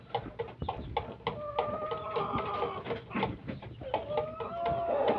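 Bulik gamecocks being raised for cockfighting cluck and murmur close by in short bursts and longer rising calls, with scattered clicks and rustling around them.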